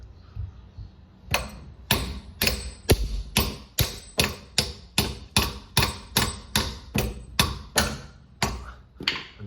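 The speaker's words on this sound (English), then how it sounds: "I'm gonna use a rubber mallet because these are brand new" Steady, evenly spaced blows of a rubber mallet striking a car's sway bar end link, about two per second, close and loud, with no talking.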